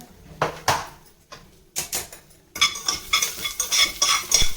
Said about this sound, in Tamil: இப்போ இதில் வந்து ஜீரகம் போடுறேன்